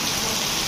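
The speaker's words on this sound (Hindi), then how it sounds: "और अभी भी 6 ही बज रहे हैं और बारिश देखो" Heavy rain pours in a continuous dense hiss during a brief moment at a gym, with no voices.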